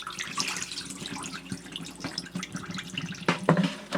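Water splashes and trickles as it drains off washed raw chicken, irregular close pouring and dripping with a louder gush near the end.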